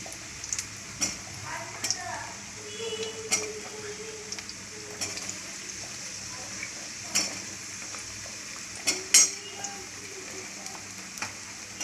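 Malpua batter frying in oil gives a faint, steady sizzle, broken by scattered light clicks and taps from utensils against the pan.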